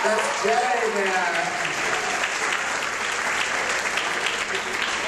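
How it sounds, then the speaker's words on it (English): Continuous applause from guests at a dinner, even and sustained clapping with a voice briefly audible over the start. "They're clapping for you."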